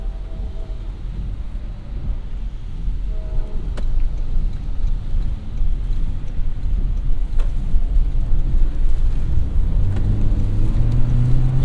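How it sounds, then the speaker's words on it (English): A 2023 Toyota Corolla Cross Hybrid pulling away and accelerating, road and wind rumble swelling steadily with a rising engine hum emerging toward the end, no talking. "We're going to get to experience the acceleration abilities of the Corolla Cross Hybrid now"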